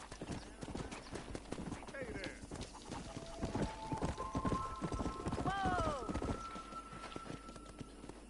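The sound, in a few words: horse galloping in video game Red Dead Redemption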